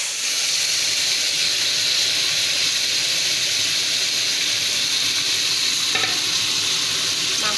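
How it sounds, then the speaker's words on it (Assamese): Marinated goat meat hits hot oil with bay leaves in a pan and is stirred, giving a loud, steady sizzle and hiss that runs the whole time with occasional scraping, and no voices. "তেজপাতখিনি ভালকৈ লৰাই লৈ মেৰিনেট কৰি থোৱা মাংসখিনি দি দিম"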